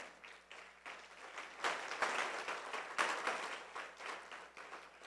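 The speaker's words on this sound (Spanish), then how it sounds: "¿Le puedes dar un fuerte aplauso al Señor Jesús?" A church congregation gives a loud round of applause during a sermon, steady clapping that swells in the middle and carries on through the whole stretch.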